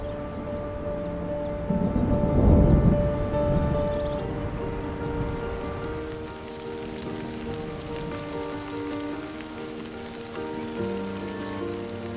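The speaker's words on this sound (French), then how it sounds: "L'hiver apporte la pluie." Winter rain falls over the dry Sandveld landscape of Africa as a steady hiss of drops on the ground, swelling briefly near the start, then settling to an even patter under a faint background tone.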